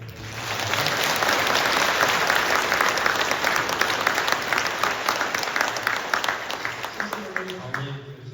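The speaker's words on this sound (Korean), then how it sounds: "행복하게 사시길 바라는 박수 한 번 더 부탁드립니다." Sustained applause from an indoor audience, a dense even wash of clapping lasting several seconds before gradually thinning out, with a voice speaking over it near the end.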